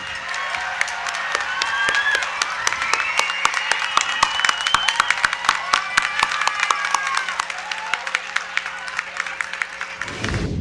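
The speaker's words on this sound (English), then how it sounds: "Could we give all of our 8th graders a round of applause?" Sharp individual claps pile into sustained applause for eighth graders at a school elevation ceremony. The clapping stays moderately loud and even for about ten seconds, then cuts off abruptly.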